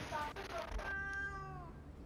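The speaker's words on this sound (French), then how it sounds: "T'en fais pas, chaton gris." A cat meows in the video game Moonscars, a single drawn-out, falling cry standing out clearly over a dark ambient game backdrop.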